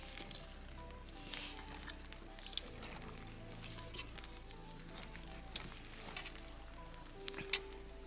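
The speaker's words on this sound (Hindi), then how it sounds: "बारिश फिर से शुरू हो गई, आवाज़ आपको आ रही होगी थोड़ी बहुत, हल्की हल्की आ रही है अभी बारिश" Light rain falling at night on a campsite near Sach Pass in India, a faint, steady patter with scattered soft ticks against a low background hum.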